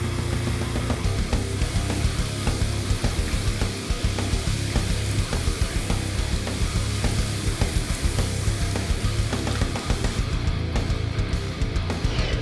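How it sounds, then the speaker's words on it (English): Ribs sizzle and bubble in a covered dish of Sprite marinade, a steady, fairly loud hiss with fine crackling that runs unbroken throughout. "it's already starting to sizzle and bubble"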